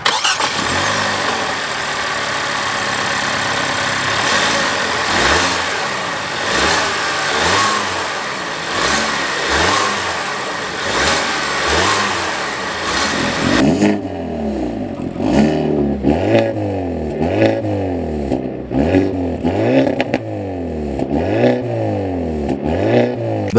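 A 2025 Hyundai Elantra N engine with its exhaust blipped through a series of loud, rhythmic revs, each rising and falling, continuing through a change in background partway through.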